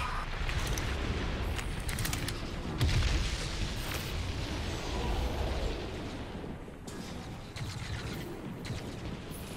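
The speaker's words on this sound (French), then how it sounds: "explosion." Battlefield explosions in the video game Crysis 3, a sustained rumbling din of booms and bursts with a heavy blast near the three-second mark and crackling debris throughout.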